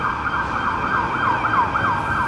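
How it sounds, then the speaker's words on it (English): An emergency vehicle siren on a Los Angeles street, wailing in rapid repeated sweeps at moderate distance over a steady traffic rumble, with no voices. "it sounds like an emergency truck, not a police car"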